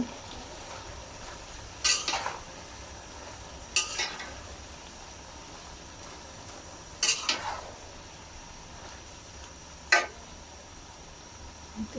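A utensil stirring and scraping food in a cooking pot while shrimp and kochu greens cook, four short distinct scraping strokes spaced a couple of seconds apart over a faint steady sizzle.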